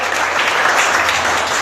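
A church congregation claps steadily and loudly throughout, a dense continuous applause during a worship service with no clear voices rising above it.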